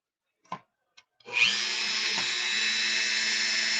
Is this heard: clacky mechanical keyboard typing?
no